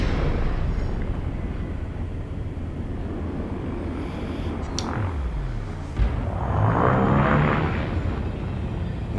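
Spaceship engines in the Elite Dangerous video game, with a steady turboprop-like drone and rumble throughout, rising and swelling louder in bursts near the end, with no talk.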